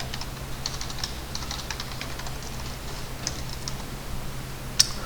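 Typing on a computer keyboard while drawing in CAD software: light, irregular key taps with a sharper Enter press near the end, heard close over a steady low hum of room noise, with no talking.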